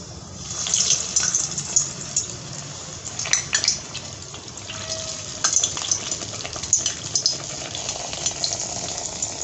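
Medu vada dropped into hot oil on high flame, a continuous bubbling fry with scattered clinks of utensils and light metallic scraping over about nine seconds, and no voice.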